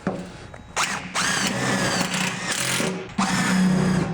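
A power drill drives self-tapping screws into a car body panel on a 1948 Chevy Fleetmaster, with short whirring bursts that rise in pitch, stop, then run again, loud and close.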